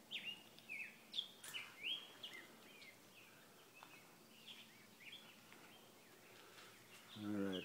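Birds chirp and tweet in quick bursts against a quiet outdoor background, several calls scattered throughout, fairly soft and a little distant.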